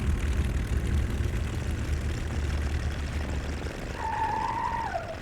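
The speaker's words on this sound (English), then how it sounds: "It's actually harder than it looks, high-speed reversing of an aircraft" A propeller airplane in the X-Plane simulator taxis backward at high speed, its engine droning loud and continuous, and a rising-then-falling whine joins near the end.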